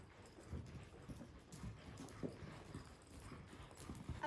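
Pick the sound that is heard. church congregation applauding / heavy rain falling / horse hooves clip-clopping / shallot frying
horse hooves clip-clopping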